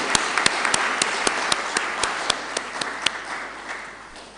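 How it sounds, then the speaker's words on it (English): Audience applause at a university inaugural lecture in Ghana, honoring the chair: steady dense clapping with a few sharp louder claps standing out, gradually thinning toward the end. "I think our chair also deserves applause for chairing the function so well"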